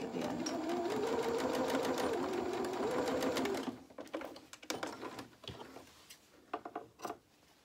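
A sewing machine stitches boxer shorts with a fast, steady mechanical whir for several seconds, then stops for back tacking, followed by short bursts, clicks and handling noises up close.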